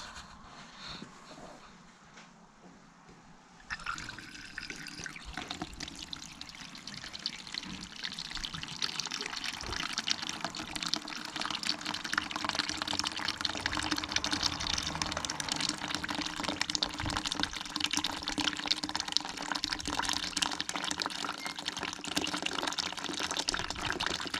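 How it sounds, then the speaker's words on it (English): Water draining out of the hopper of a 1937 Lister A Junior stationary engine into a bucket, a steady splashing pour that begins after a few quiet seconds and carries on continuously, close and fairly loud, with no talking. "I'm now going to just drain the water out into this bucket."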